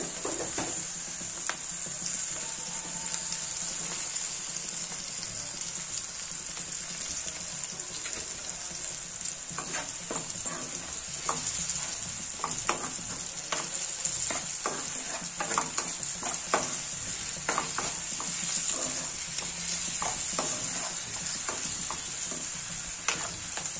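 Jilimili greens fry in hot oil with turmeric, giving a continuous bright sizzle under repeated scraping and clicking strokes of a spoon stirring the pan, close and unbroken throughout.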